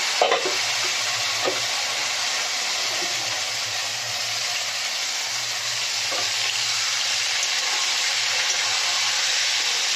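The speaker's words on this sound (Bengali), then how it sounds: "একটু ভাজতে থাকবো, একটু ভাজাভাজি হলে তারপর মশলা দেবো।" Potato, papaya and green chili fry together in a pan with a steady, loud sizzle and a few stirring scrapes, no talking.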